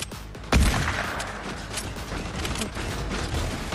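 Gunfire in the video game Fortnite, a sudden loud blast followed by dense, rumbling shooting and mechanical clatter.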